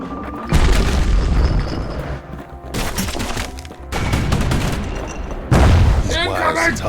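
A hand grenade goes off in the video game Bastion, with several heavy booming blasts and crackling debris over a continuous game backdrop, loud and close, while a voice talks during the sequence.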